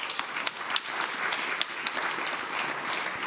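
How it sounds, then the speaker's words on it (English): A conference audience applauds panelists after a discussion, a steady wash of many hands clapping at moderate level throughout, with no voices over it. "Please join me in giving them a round of applause."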